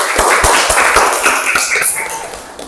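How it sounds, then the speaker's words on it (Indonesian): A class claps for a presentation group, with hand claps near and loud over a background of crowd noise, the clapping thinning out toward the end. "Beri tepuk tangan untuk kelompok 1."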